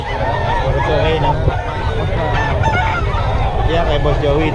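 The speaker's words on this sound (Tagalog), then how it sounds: "Binibenta niya manok." At a poultry market in Bocaue, chickens and roosters squawk and cluck in a dense, continuous chorus, with scattered crowing-like calls over steady crowd babble and people talking nearby.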